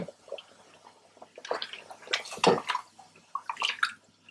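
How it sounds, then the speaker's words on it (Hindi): About half a cup of water is poured into a pot of chicken curry, giving close, faint splashing and dripping sounds in uneven bursts with no talking. "आधे कप जितना पानी डाल रही हूँ इसमें मैं।"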